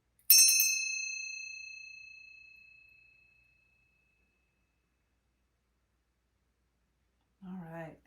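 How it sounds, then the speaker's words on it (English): A heavy bell used for cleansing energy is struck once near the start and rings out clearly, its tone fading slowly over about three seconds into silence before a voice begins speaking at the end. "the bell felt so heavy, like heavier than normal"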